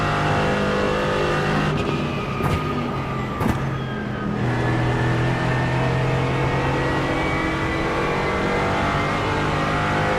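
A GT4 race car in iRacing at Bathurst drones loudly and continuously, its engine note holding steady with a few brief sharp transients early on and a shift in pitch midway.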